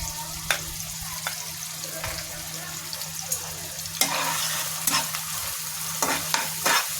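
Eel fish curry being stirred in a pan with sliced green chillies, a steady frying sizzle under repeated scraping strokes and occasional sharper clinks, close and moderately loud with no talking.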